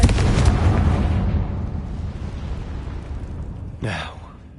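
A Confringo fire spell explosion in the video game Hogwarts Legacy: a loud burst at the start decaying into a long rumbling tail, with a short voiced sound near the end.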